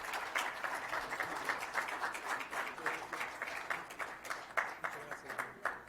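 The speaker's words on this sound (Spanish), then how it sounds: "démosle con un muy fuerte aplauso a nuestros invitados" Audience clapping for guests at a Spanish-language presentation on investment visas, a moderately loud, rhythmic patter of many hands with individual claps standing out, continuing steadily throughout.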